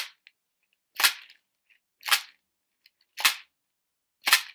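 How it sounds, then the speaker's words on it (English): A homemade shaker filled with dried pasta or rice is shaken four times in a steady rhythm, each a sharp rattling burst about a second apart, close and clear with quiet between. "we'll just give it a shake like this, and then we get a sound a bit like a maraca"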